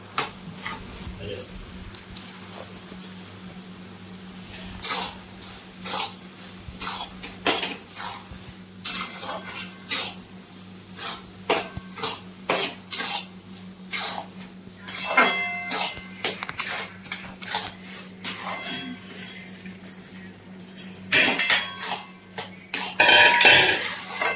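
A spoon scrapes and clanks against a metal pot while sugar is mixed into carrot halwa, irregular knocks and scraping close up, with a voice talking intermittently.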